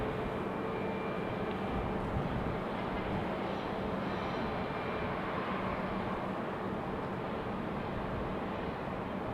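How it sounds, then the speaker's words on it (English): A United Airlines Airbus A319 arriving at Raleigh-Durham airport, its steady broad jet roar holding at moderate loudness throughout with no talk over it. "Next arrival is United Airlines 15:02 coming in from Chicago O'Hare."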